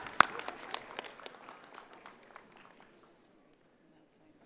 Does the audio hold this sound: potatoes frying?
no